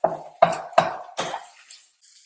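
Scrambled eggs with onions are scooped out of a wok onto a plate in four quick, close metallic scrapes, followed by a faint fifth tap, with no talking.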